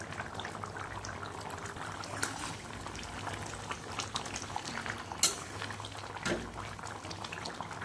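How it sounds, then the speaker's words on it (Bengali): Chicken curry gravy with potatoes and whole spices bubbling steadily in a pot, a continuous close boil with occasional louder pops and a brief clink of utensils, no talking. "এবার ঝোলটা ভালো করে ফুটিয়ে নেব।"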